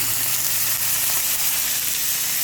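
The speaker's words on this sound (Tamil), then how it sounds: "தாளிப்பு போட்டுடலாம்" Mustard seeds and spices sizzle loudly and steadily in hot oil while being tempered for a Kanyakumari-style fish curry, a dense, close crackle with no one talking.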